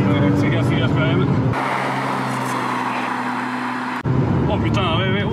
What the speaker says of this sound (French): c'est le son Porsche, tu vois